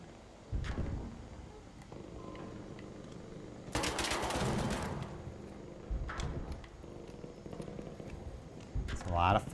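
Gunfire in the video game ARC Raiders pops in scattered shots, then a dense crackling burst erupts for about a second before fading to sporadic distant reports, mixed with speech and other game noise.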